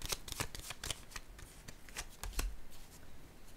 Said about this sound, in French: Je vais déposer une carte sur la transformation à l'envers.